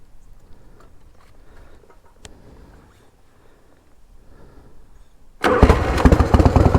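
A Harley-Davidson Evo motorcycle engine, choked after sitting a while in a shed, catches suddenly near the end and roars into a loud, rough running after several seconds of quiet ambient sound.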